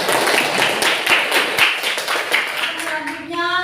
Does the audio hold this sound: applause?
yes